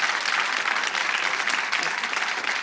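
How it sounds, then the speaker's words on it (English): Studio audience at a UK television game show applauding, a dense steady burst of clapping throughout. "Nice round of applause."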